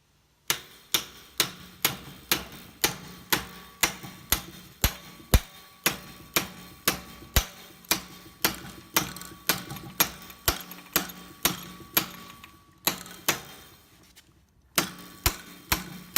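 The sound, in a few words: hammer tapping roll pin into landing leg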